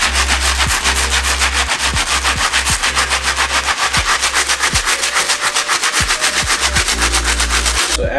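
Stiff bristle brush scrubbing the midsoles of trashed Yeezy sneakers, a loud, steady rhythmic back-and-forth rubbing with quick repeated strokes throughout, no talking.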